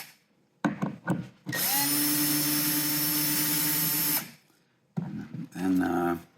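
A power drill whirs loudly and steadily for a few seconds, with a few clicks and handling knocks just before and after.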